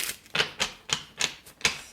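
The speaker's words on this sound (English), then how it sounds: "So we're shuffling clarification cards for this reading." Tarot cards being shuffled for a reading, heard as five or six crisp riffling bursts in a steady rhythm, close and fairly quiet, with no talking.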